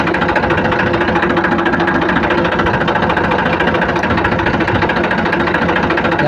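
An Eicher 380 tractor engine runs at a loud, steady idle during hydraulic repair work, its close, continuous knocking throb unbroken and without talk.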